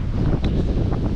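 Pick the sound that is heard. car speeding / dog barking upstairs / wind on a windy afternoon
wind on a windy afternoon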